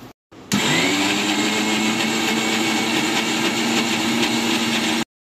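A blender grinding oats dosa batter with water and salt, running loud and steady for about five seconds after a brief start-up, with a constant motor whine and no talking.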